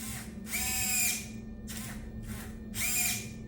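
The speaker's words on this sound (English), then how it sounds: "So here's what like the Go Builders sound like." Loud whine of a goBILDA servo motor running in several short bursts of about a second each, with pauses between, close up and harsh, like a small power tool.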